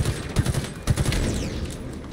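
Halo Infinite gameplay gunfire crackles in short rattling bursts, with two clusters of rapid shots under a constant layer of game noise and no talking.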